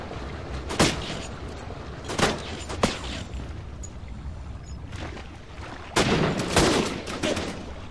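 Scorpion gunfire in the video game Syphon Filter: The Omega Strain, heard as loud, close bursts of rapid shots in separate volleys over a rumbling game background, with no talk.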